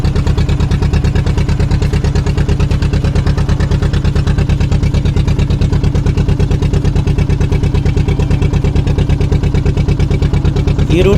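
A motor boat engine drones steadily at sea, a loud, close, unbroken chugging hum with a fast regular pulse that runs without letup and without pause.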